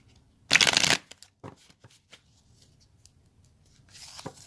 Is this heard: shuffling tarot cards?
yes